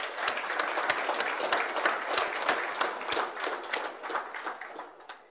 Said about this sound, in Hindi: हमारे प्रधानमंत्री जी के लिए एक बार जोर से ताली बजाएं।